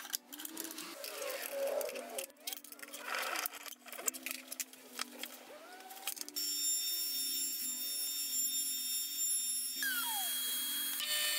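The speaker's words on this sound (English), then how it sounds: "After drilling a center pivot point for my router circle cutting guide, I then drill several holes to serve as location points for 10mm dowel" A power drill boring holes in an MDF router template with a high whine, rising and cutting out in uneven bursts, then a steady tonal machine hum.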